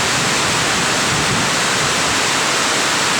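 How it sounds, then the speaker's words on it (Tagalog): Loud, constant hiss of heavy rain pouring down, a dense unbroken wash of noise with no voices. "Napakalakas ng ulan"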